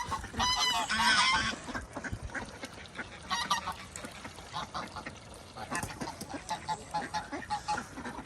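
Geese honk repeatedly at moderate distance, overlapping calls scattered throughout amid outdoor ambience and occasional voices.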